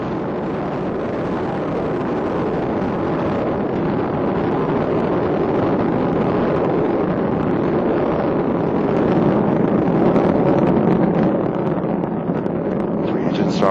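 Space Shuttle Endeavour's three main engines and boosters roar during the STS-126 launch, a dense, steady broadband rumble with wind-like buffeting that holds loud and unbroken throughout, swelling slightly toward the end as the engines throttle down near maximum aerodynamic pressure.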